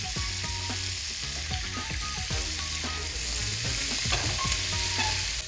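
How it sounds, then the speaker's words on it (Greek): Squid sautés quickly in a hot pan with a constant loud sizzle, punctuated by steady scraping and tapping of a utensil stirring the pieces. "γρήγορο σοτάρισμα στο καλαμάρι"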